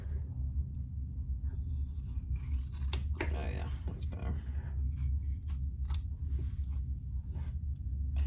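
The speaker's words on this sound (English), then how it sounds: "I'm gonna get my bigger scissors out." Large scissors make repeated sharp cuts through dense cork up close, with brief talk partway through and a constant low hum underneath.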